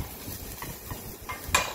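Vegetables softening in a hot pot for pilau rice, a soft sizzle under scraping and clinking of a utensil stirring against metal, close up and brief.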